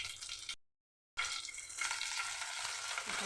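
Mustard seeds, leaves and green chillies crackling in hot white oil for a potato filling, a dense close sizzle that cuts out for a moment, then returns strong and steady, with no talking.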